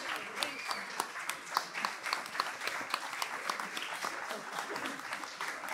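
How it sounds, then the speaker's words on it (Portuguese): Applause and clapping from a carnival crowd for an elderly woman performer in a senior folk-dance group at Santa Luzia da Praia, steady dense clapping with sharp peaks throughout. "Uma salva de palmas para ela"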